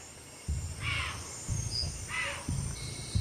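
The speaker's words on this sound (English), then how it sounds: "Deer alarms sound in the distance." Two distant alarm calls ring out about a second apart, over a soft, pulsing low background of night ambience.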